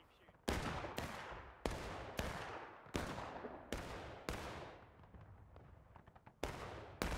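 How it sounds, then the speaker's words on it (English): Repeated musket-style gunshots ring out during a War of Rights Civil War battle on a forest stream map, about eight sharp cracks spaced roughly a second apart, each trailing off in a long echoing decay. "Keep shooting, guys. They're still down there. Keep shooting."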